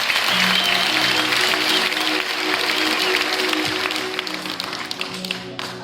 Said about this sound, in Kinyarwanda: Dukomere Imana amashyi ko turi bazima.